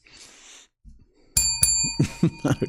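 A bell rings out loudly, close by, with a bright metallic ding and a long ringing tone, followed by several rapid dull clicks or knocks.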